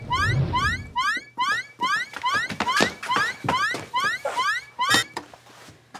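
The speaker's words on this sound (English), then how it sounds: "An alarm? It sounds like it's coming from the hub." An electronic alarm sounds from a hub in rapid repeated rising chirps, loud and close, in a children's lesson drama.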